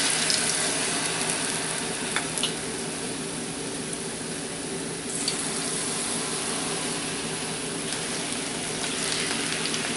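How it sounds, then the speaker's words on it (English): Mushroom pieces fry in hot vegetable oil, a steady, even sizzle and hiss continuing throughout with small crackles, close and moderately loud. "Now we'll fry the mushroom."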